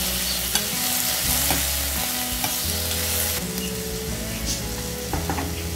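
Onion, garlic and tomato sauté in a hot pan, with a steady loud sizzle of frying broken by repeated scraping and stirring clatter throughout.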